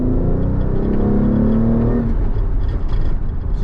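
Nissan 300ZX fitted with cold air intakes pulls at full throttle in second gear from a rolling start: a loud, steady engine drone with rising tone that breaks into a broader, rougher roar for the last couple of seconds.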